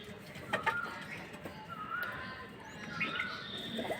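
Pigeons cooing in a loft where a ten-day-old squab was hurt by older birds, with soft, low, repeated coos and rustling spread through the clip at a fairly quiet level.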